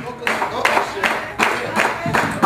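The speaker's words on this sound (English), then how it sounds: "I want y'all to clap for me." A crowd at a Detroit live show claps in a steady, even rhythm, sharp beats roughly every half second, with voices mixed in behind the clapping.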